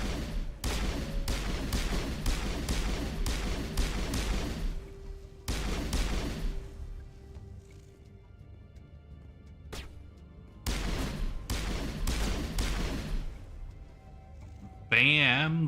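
Gunfire from the video game Mass Effect rings out as bursts of loud, sharp shots, with several clusters spaced through the stretch and a few quieter gaps between volleys.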